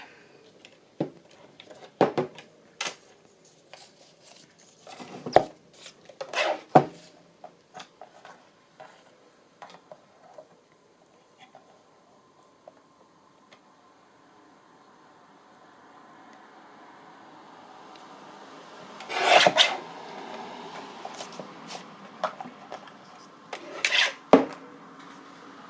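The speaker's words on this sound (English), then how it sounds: "and then I'll just trim off the edge." Edge trimming on a handmade book cover gives sharp scattered cutting and rubbing scrapes in short bursts, with a quiet stretch in the middle and a louder dense rasp near the end, close up with no talking.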